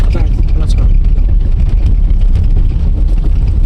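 A car rolls along in gear at roughly 25 km/h during a driving lesson, giving a steady low engine and road rumble that stays constant throughout, with people talking over it.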